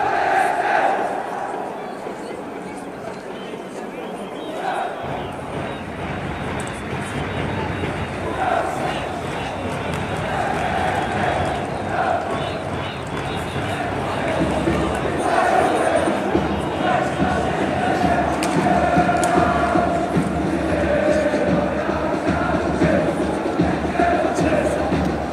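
Marrakech football supporters of Kawkab Marrakech roar and chant in the stadium stands after their side's second goal against Kénitra, a dense, sustained crowd noise that swells after the first few seconds and stays loud throughout.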